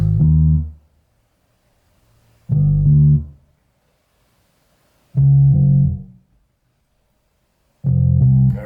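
A simple lo-fi chill hop bass line played alone: four deep, round sustained notes, each under a second long, separated by silent gaps of about two seconds, clean and close.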